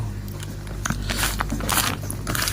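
Someone eats egg biryani mixed with salna, making close, crunchy chewing and squishing bites. The sounds sit over a constant low hum.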